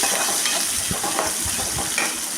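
Shallots, curry leaves and garlic cloves sauté in a pan, giving a close steady sizzle with a few soft stirring scrapes, alone and without talk.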